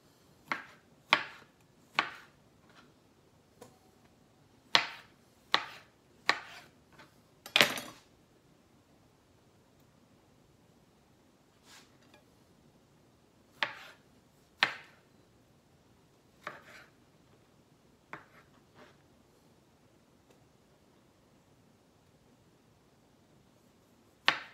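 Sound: knife chopping tomatoes

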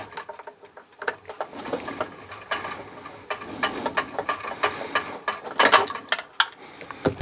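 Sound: removing screws and cover from an overlocker

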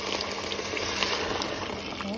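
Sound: water boiling in a pot

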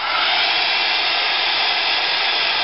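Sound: hair dryer drying craft gel on a picture frame

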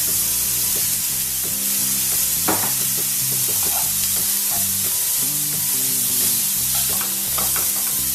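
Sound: onions sautéing and being stirred in a pan for onion curry

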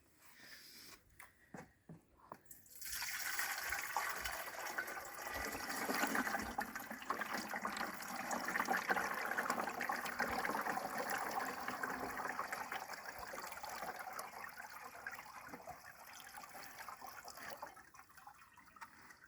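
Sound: liquid mixture pouring into garden sprayer tank

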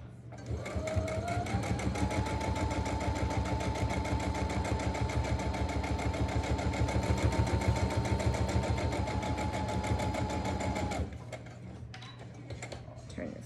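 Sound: sewing machine backstitching fabric

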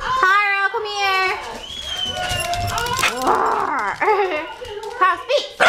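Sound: dog barking on command

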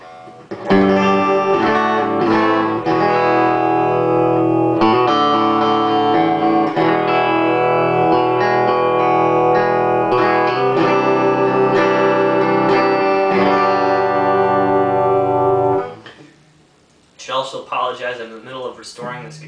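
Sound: guitar clean tones through Weber Revibe reverb tremolo unit

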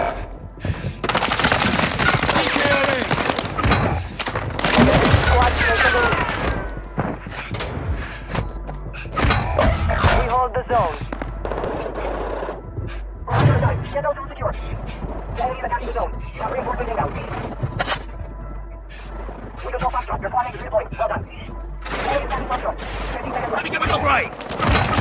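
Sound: gunfire in video game Call of Duty Warzone 2

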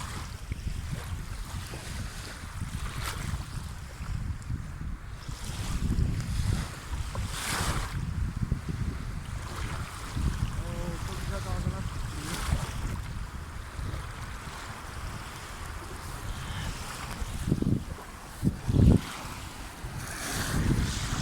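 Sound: sea waves with a boat at sea

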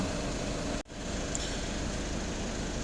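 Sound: Skoda Octavia 1.6 TDI diesel engine idling while warming up

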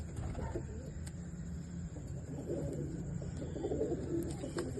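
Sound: female Kalposhi pigeon cooing

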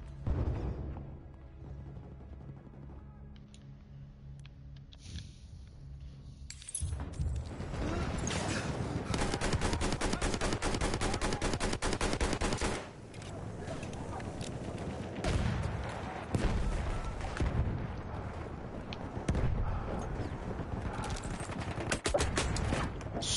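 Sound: grenade explosions and gunfire in video game Battlefield 1

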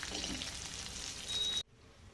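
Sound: sautéing ingredients in a pan for curry leaves chutney

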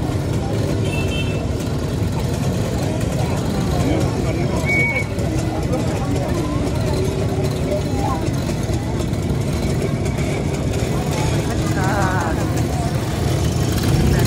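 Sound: Motorynka moped racing at a vintage vehicle rally

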